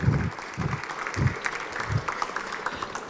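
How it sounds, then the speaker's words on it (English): Audience clapping at the opening session of a travel summit, a steady wash of applause with a few heavier bursts, filling the room without any speech. "Ladies and gentlemen, big round of applause for Kathryn Thomas."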